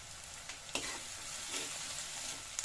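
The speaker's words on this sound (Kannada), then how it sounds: "ಈರುಳ್ಳಿ ಕೂಡ ಹಾಕೊಂಡ್ಬಿಡಿ ಫ್ರೈ ಮಾಡ್ತೀವಿ" Chopped onions frying with mustard seeds and cumin in a pan, a faint steady sizzle broken by a few soft scraping stirs from a spoon.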